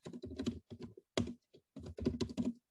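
Keys clacking on a computer keyboard in bursts of rapid typing with short pauses between, close and moderately quiet, no voices.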